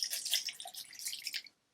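Water pours over ice in a cocktail mixing glass, a short, soft splashing trickle with bright crackles from the cubes, close and quiet, fading out after about a second and a half.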